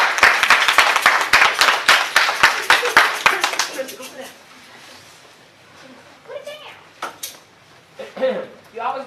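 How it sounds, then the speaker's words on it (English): Applause from a youth ministry career expo audience, dense clapping loud for the first four seconds, then fading to scattered claps as voices talk over it. "Y'all give her a round of applause."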